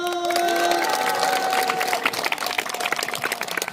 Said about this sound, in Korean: 하나님께 박수 주세요.